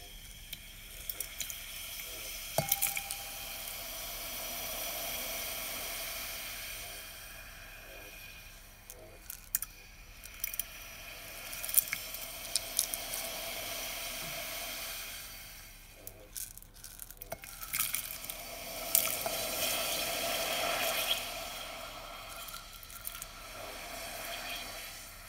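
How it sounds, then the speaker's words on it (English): Potassium hydroxide reacting with ammonium nitrate in a container gives off a steady, crackling fizz of bubbling that rises and falls in waves over the whole span, with no voices. "I'm adding my small amount of potassium hydroxide to the ammonium nitrate, but it makes this cool bubbling noise"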